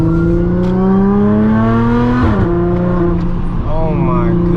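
A 2013-era Audi S4 B8.5 with an AWE Touring exhaust on test pipes revs hard and loud up close, its engine note climbing, dropping sharply, then rising again over a continuous roar.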